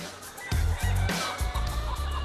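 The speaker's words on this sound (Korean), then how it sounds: "닭 울음소리가 요란한데요." White silky fowl chickens on a forest farm crowing and calling loudly in repeated bursts, several birds overlapping close by, with no voices.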